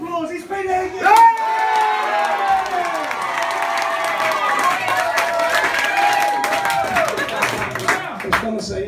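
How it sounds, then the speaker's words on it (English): Audience at a stand-up comedy show bursting into applause with cheering and whoops, a dense crowd wash that holds steady throughout, with loud shouted voices and tonal yells riding over the clapping. "big round of applause"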